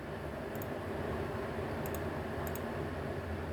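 Quiet, steady clicking of keys being typed on a computer keyboard in a word processor, soft taps under a constant hiss with no talking.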